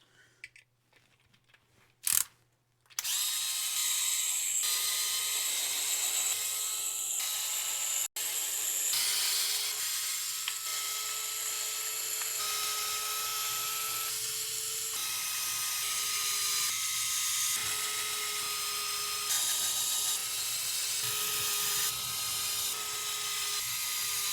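Bolts are being removed from a Fordyce RC car on a workbench during a transmission swap. A steady, close, whirring mechanical drive runs for about twenty seconds, with brief knocks at the start and no talking.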